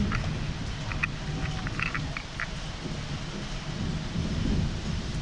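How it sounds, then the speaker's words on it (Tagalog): Steady rain hisses with a low rumble of thunder rolling underneath, continuous and fairly close, on an outdoor ride in Batangas, Philippines, with a few faint higher tones briefly audible. "Inabot kami ng ulan."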